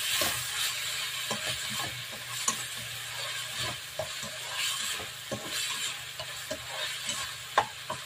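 Food being tossed and mixed with salt and black pepper gives rhythmic scraping and clicking stirs over a low steady sizzle, close and continuous, with a faint hum underneath.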